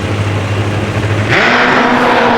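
A Top Fuel drag bike at an AMA Prostar championship race launches hard, its loud engine drone jumping to a harsher, higher roar partway through and then holding steady as it pulls away down the strip.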